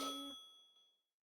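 A single bright ding of a phone ringtone in the game Blue Archive, one short chime that rings out and fades over about a second.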